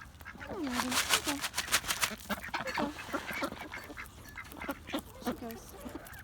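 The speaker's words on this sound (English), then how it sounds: "Rooster attack." Backyard poultry, among them a rooster, call out at feeding time with a cluster of honking and quacking squawks. The calls are loud at first, then scattered and softer, mixed with rustling nearby.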